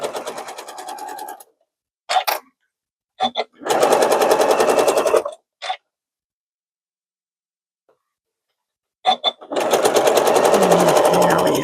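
A sewing machine runs along a quilt seam for a sunflower-pattern quilt in loud, close bursts of fast rhythmic stitching, broken by short starts and full silences.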